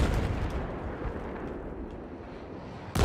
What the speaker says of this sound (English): And here comes the rocket artillery.